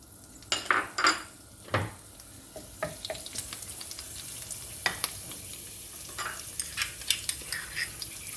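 Curry leaves fry in about three tablespoons of hot oil for a salmon curry, a steady close sizzle broken by sharp spoon clinks and scrapes against the pan.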